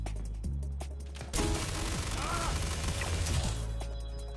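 Rapid bursts of Ripper SMG fire in Star Citizen, a dense, loud rattling volley running for a few seconds after a quieter opening.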